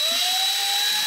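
A power drill spins a scotch pad against the oil filter housing surface of a Ford Mustang, giving a steady high whine for about a second with no talking.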